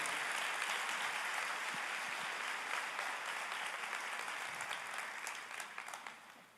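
A church congregation applauds steadily for several seconds, dense clapping that thins out and fades near the end.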